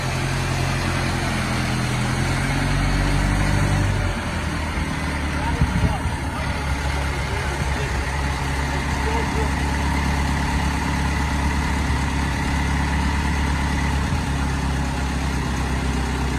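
A 1922 Ford Model T Doctor's Coupe engine runs steadily at a low idle close by, a continuous rumbling drone with a brief clunk partway through and voices talking over it.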